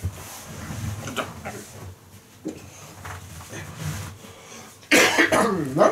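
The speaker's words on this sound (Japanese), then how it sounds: "なんかでも咳込むな" Several short, close coughs and throat-clearing sounds from a man with a sore throat after eating, at irregular intervals, with a louder burst of voiced sound near the end.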